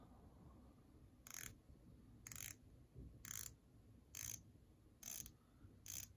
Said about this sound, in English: That is a nice clicky action there.